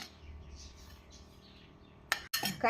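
A teaspoon mixes turmeric, coriander and chili powders for a small sardine pickle. After a quiet stretch of faint background noise, a few bright metallic clinks and scrapes come close together near the end.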